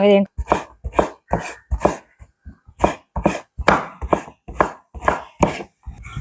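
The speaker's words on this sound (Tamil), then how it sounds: "இந்த கத்திரிக்காய் நல்ல வடிவாக சின்ன சின்ன எல்லாம் வெட்டி எடுத்துட்டோம்" Rapid knife chopping of eggplant into small pieces on a board, about a dozen sharp, evenly spaced cuts in a steady rhythm, close and fairly loud.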